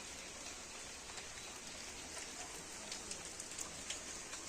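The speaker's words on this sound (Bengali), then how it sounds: "বৃষ্টিটা দেখো।" Steady rain falling on a wet morning, a soft continuous hiss with scattered drop patter, faint and distant with no one talking.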